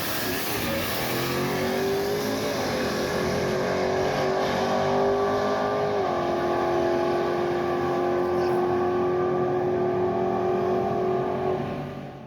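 A nitrous 496 drag race car makes a pass down the strip with a loud, sustained engine roar that shifts pitch partway through, heard up close with no talking.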